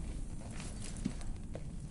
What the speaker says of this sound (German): das Pferd